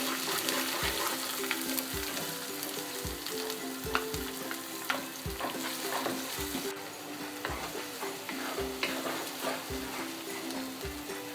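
Onion paste sizzles and spits in hot oil for a Bengali hilsa curry with mustard, a steady dense frying hiss broken by repeated soft knocks of stirring, close and continuous with no talk.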